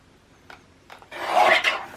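Paper being trimmed for a junk journal pocket: a few faint scraping touches early on, then a louder rasping cut of roughly half a second near the end, with no talking.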